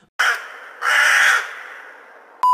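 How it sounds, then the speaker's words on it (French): Crows in a music video give two loud, harsh, drawn-out caws close by, followed by a fading tail and an abrupt bright tone cutting in at the end. "Des putains de corbeaux."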